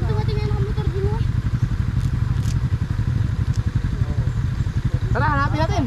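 A motorcycle pulls up close by, its engine putting steadily with a rattly, clattering idle, while voices talk intermittently over it.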